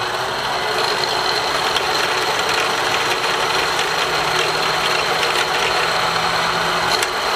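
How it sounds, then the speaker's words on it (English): Singer Stylist 358 sewing machine winding a bobbin, a steady close motor whir with a light rapid mechanical rattle running evenly throughout, no talk. "we wound the bobbin on the 353"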